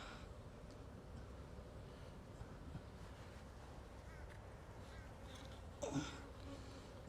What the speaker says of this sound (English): Bees are just starting to pop me on the back of the hand